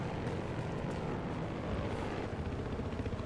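A helicopter in the video game Battlefield Hardline gives off a steady, dense rotor and engine roar that stays constant throughout with no voices.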